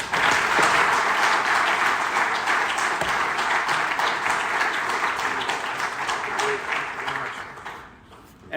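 An audience greets Illinois State Representative Dave Vella with steady, loud applause from many hands. It fills the room evenly, then tapers off near the end.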